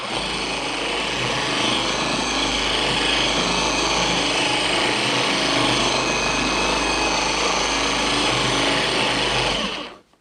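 Forced rotation dual-action polisher fitted with a McKee's 37 Redline foam pad, run on car paint to remove swirls, gives a steady loud whirring hum throughout, close, then cuts off abruptly at the end.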